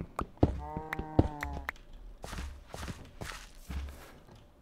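Minecraft cows moo in a single long, tonal low call, followed by blocky footstep-like thuds and shuffling, fairly close with no voices.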